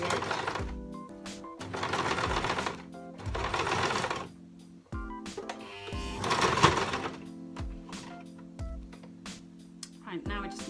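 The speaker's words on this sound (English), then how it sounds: "Right, now we just need to attach our elastic. So I'm just sewing this on the inside." A sewing machine stitches a homemade fabric face mask in several loud, rapid whirring bursts separated by short pauses, with a voice talking between runs.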